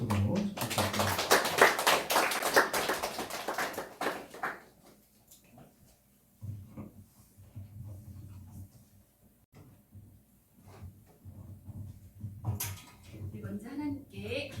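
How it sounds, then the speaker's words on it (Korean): Church congregation applauding as a woman evangelist comes forward, a loud burst of clapping at the start that fades after a few seconds into quiet room noise and soft speech. "자, 우리 김윤숙 전도사님 나오실 때 박수로 축복드립니다."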